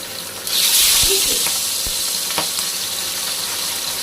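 Pabda fish frying in hot oil gives a loud, steady sizzle that swells after a brief quiet start and then holds as a broad, continuous hiss, with a few soft clinks and stirring knocks.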